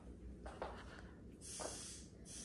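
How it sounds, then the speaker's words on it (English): Spray bottle being spritzed over surfaces while cleaning a rental house, two or three short hissing bursts close by, with a steady background hum. "My husband's spraying everything down."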